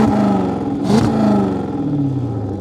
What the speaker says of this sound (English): this is what it sounds like when we give it a rev.